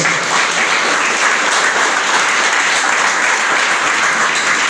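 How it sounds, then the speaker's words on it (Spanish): A church congregation gives the Lord a steady, loud round of applause, dense clapping filling every moment without pause or fade. "Denle un aplauso al Señor"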